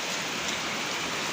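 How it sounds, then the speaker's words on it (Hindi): Heavy rain pours steadily, a dense, even hiss of drops hitting surfaces with no other sounds. "खतरनाक मस्त बारिश लगी हुई है"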